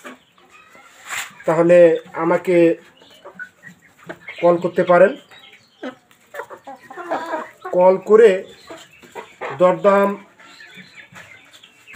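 Brahma chickens in a farm pen, big-sized hens near laying age, clucking faintly under someone speaking almost continuously close by.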